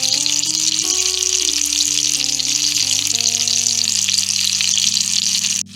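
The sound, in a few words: meatballs browning and sizzling in a pan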